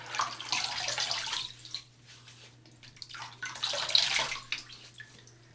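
Water from a tap splashes and runs in a sink as a face is wetted before a shave, two bursts of splashing and trickling at moderate level over a low steady hum.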